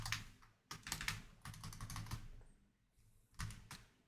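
Steady typing on a computer keyboard, close up, with rapid clicky keystrokes in bursts and brief pauses between them.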